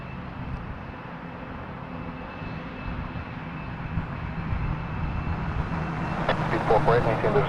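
An airplane taking off from runway 06 left at Toronto Pearson, a broad engine roar that steadily swells and grows louder, with faint radio chatter beneath it.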